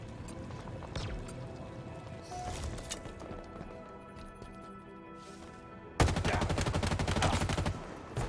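Gunfire in Halo Infinite multiplayer: scattered shots under a busy game mix, then a loud burst of rapid automatic fire for almost two seconds that cuts off abruptly.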